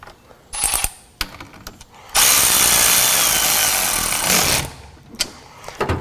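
A ratchet wrench tightens a nut onto the battery terminal of a 2022 Ford Maverick, sounding as short clicking bursts followed by a long, loud, steady run of rapid ratcheting, then a few final clicks.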